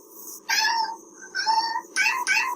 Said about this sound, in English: Meowing and purring.